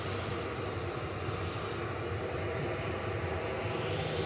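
A Boeing 737-800 jet airliner at Manchester Airport gives a steady, even roar with no clear peak, heard at moderate distance and alone.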